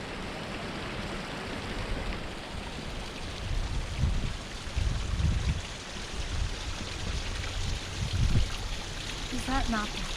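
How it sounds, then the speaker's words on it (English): Steady broadband rush of a waterfall in Zion National Park heard from a short distance, continuous and moderately loud, with faint low thumps and a brief voice-like chirp near the end. "And then we got the falls over there."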